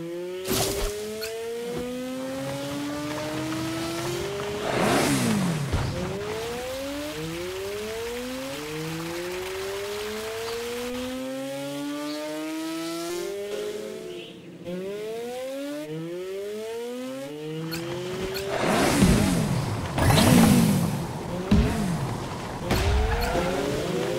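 Cartoon vehicles driving and racing in a Paw Patrol rescue video game, with rising and falling engine whines, revving and tire squeals building to a louder, busier stretch of engine noise near the end, with no speech.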